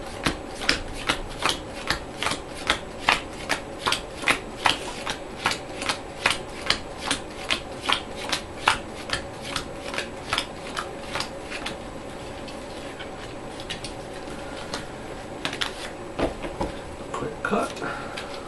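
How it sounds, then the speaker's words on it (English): A deck of encounter cards for an Arkham Horror card game is riffle-shuffled at close range in a rapid run of crisp, evenly spaced flutters, followed by quieter handling and a final burst of shuffling. "One more quick shuffle."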